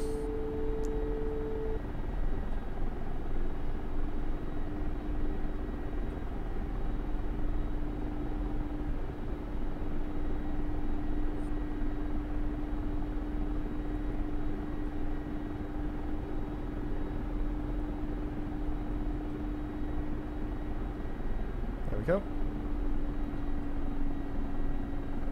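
A Mi-24 Hind helicopter idles on a runway in the DCS flight simulator, its engine and rotor making a steady, loud, droning hum with sustained tonal whine throughout.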